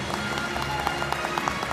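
Applause from an audience at the 2014 Martín Fierro awards ceremony: a steady, moderate wash of clapping with a few louder individual claps standing out, continuing evenly for a couple of seconds.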